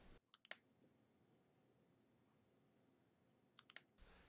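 A steady, piercing 10,000-hertz sine tone sounds alone for about three seconds, starting and stopping abruptly, with faint clicks just before it begins.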